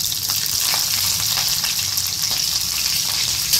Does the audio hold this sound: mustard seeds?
yes